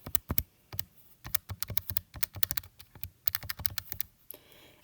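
Calculator buttons are tapped in a quick, irregular series of crisp, close clicks, with short pauses between bursts and no talking.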